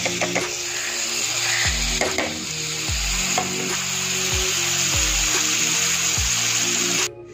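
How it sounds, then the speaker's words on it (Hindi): Food sizzles lightly in a pan in a home kitchen, a continuous hiss broken by a series of scraping stirring strokes every second or so, fairly close with no talking. "इसको बस हल्का हल्का सा फ्राई करना है हमने।"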